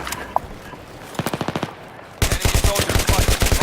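Rapid bursts of gunfire in Battlefield 3 multiplayer, a short volley followed by louder sustained automatic fire, with no talking.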